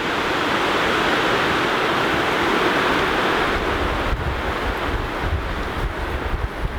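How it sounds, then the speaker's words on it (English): Strong winter wind roars in a continuous loud rush through bending trees at a campsite, buffeting the microphone with low rumbling gusts. "It's pretty windy out right now."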